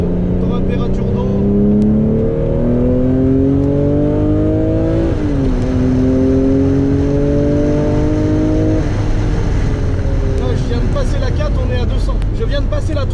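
A sports car accelerating hard, its engine note climbing steadily through the gears at high speed, with clear drops in pitch at each shift before the revs build again. The engine is loud and continuous throughout.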